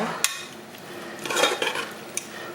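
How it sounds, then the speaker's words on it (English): Veggie chunks being stirred with curry ingredients in a pot, a soft background sizzle broken by scraping and clinking utensil strokes against the pan, with a denser burst of stirring midway. "I'm just stirring it with all the ingredients"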